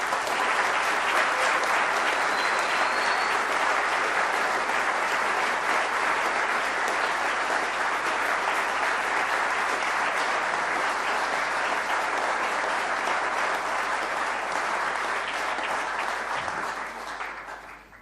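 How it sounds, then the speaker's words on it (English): An audience at PyCon UK applauds the kids, with sustained dense clapping from a large crowd that holds steady and then tapers off at the end. "can we all give them a round of applause"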